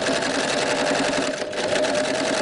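An overlock serger sews fabric toward the neckline of a DIY dolman dress, its motor humming in a steady, fast, even stitching drone that stays close and loud for the whole stretch with one brief dip.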